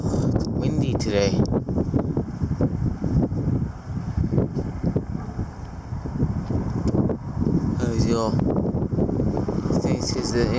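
Steady outdoor wind gusts before a late-season snowstorm in February, buffeting the microphone with constant low rumble throughout, with a person talking intermittently over it.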